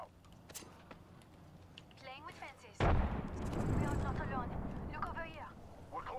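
A frag grenade goes off in Apex Legends as a sudden loud broadband blast that rolls into a sustained rumble and debris wash, with speech before and after it.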